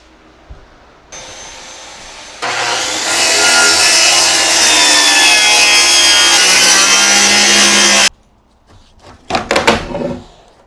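A saw cuts 4x8 lumber about an inch and a half thick for a Mako 17 boat transom, making a loud, continuous cut of around six seconds, then a few knocks and handling sounds.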